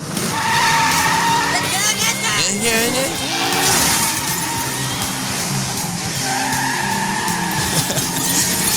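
A cartoon car skids with squealing tires in a South Park episode, the screech sustained and loud across the scene, mixed with engine noise and characters shouting over it.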